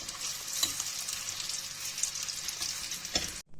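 Steady sizzling of eggplant slices frying in hot oil, with occasional clinks and scrapes of a utensil; no voices.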